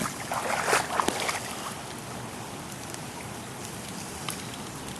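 Heavy rain pours down steadily in a backyard during flooding, a dense, continuous hiss close by with scattered louder drops and no talking.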